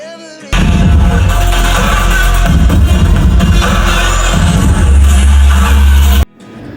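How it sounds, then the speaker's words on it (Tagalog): Event-night crowd at Kathryn Bernardo's dance performance for Century Tuna screams and cheers continuously, loud and dense, with no break across the whole stretch. "Walang tigil ang hiyawan ng mga taong nanonood sa kanya"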